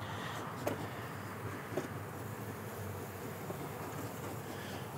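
Honeybees buzzing in an observation hive during installation, a steady low droning hum that carries through the whole stretch, with a couple of brief louder bumps near the start.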